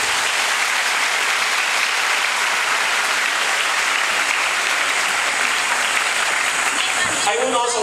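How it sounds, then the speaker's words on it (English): A graduation ceremony audience claps in a loud, continuous, even wash of applause from a large crowd that carries through nearly the whole stretch, before a voice begins to speak at the very end. "How about the loudest applause for all of you?"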